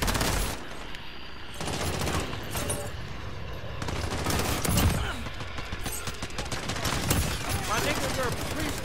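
Gunfire in Call of Duty Modern Warfare, bursts of automatic weapon fire and single shots rattling at close range, loud and repeated, with a player talking over parts of it.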